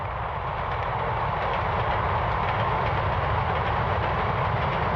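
An RTG gas turbine trainset of the T 2000 series runs along the rails on its last journey, a loud, steady, close roar and rumble that holds unbroken throughout, with no voices.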